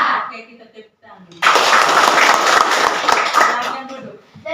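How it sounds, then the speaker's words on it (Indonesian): Classroom of students clapping together for a teacher, a loud burst of hands that starts abruptly after brief talk and continues steadily for about three seconds with some rhythmic accents. "Oke, kita tepuk tangan."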